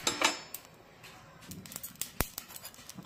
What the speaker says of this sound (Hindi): जीरा जल रहा है, चिटचिट का आवाज़ आ रहा है।